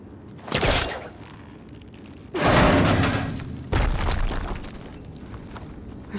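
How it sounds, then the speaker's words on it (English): A fire gleam is blown up in Horizon Forbidden West. Three loud, close booms land several seconds apart, each trailing into a rumbling, crackling decay. "Should be able to blow up that fire gleam."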